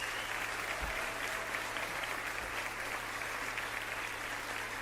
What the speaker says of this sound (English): Honestly, round of applause.